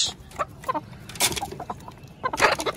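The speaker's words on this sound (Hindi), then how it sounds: "ये है जी हमारी मुर्गी, ये ब्राउन वाली" A brown hen clucks in short, irregular bursts nearby, with soft scratching and rustling between the calls.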